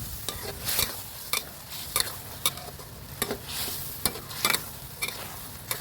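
Thai eggplants being stirred in a pot of boiling water, with repeated scraping and clinking stirs over a steady bubbling hiss, fairly close.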